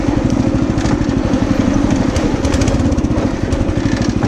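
A small homemade motorized lawn chair engine runs steadily and close, a rough, buzzing putter with a rapid crackling pulse that holds constant throughout, with no talking.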